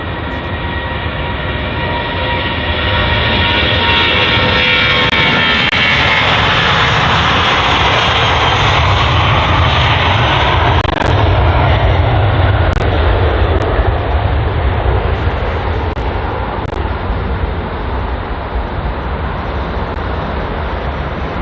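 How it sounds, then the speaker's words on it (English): A British Airways Airbus A320 jet departing London Heathrow, its engines a loud, sustained broadband roar that swells and holds steady throughout, with no talk over it. "here is the British Airways A320 departing to Lisbon"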